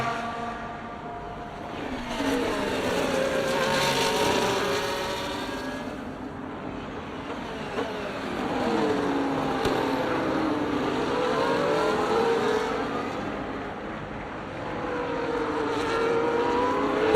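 F1 race cars in the F1 24 video game scream past in Mexico, three running side by side, with rising and falling engine whines and gear shifts layered continuously and loudly throughout.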